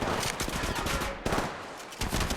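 Automatic gunfire in the video game Apex Legends, rapid bursts of shots in quick succession that are loud and close, with a short pause midway before the firing resumes.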